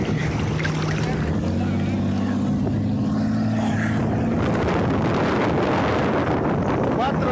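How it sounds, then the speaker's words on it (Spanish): Four motorboats on the Rio Bravo, a steady engine drone rumbling through wind-buffeted air, with people talking over it. "Cuatro lanchas, ve usted."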